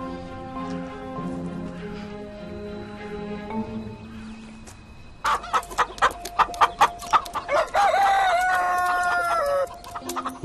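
Chickens cluck and a rooster crows on a bird-breeding egg farm, starting under a steady musical bed, then a run of sharp, close, repeated clucks and calls that rise into loud crowing near the end.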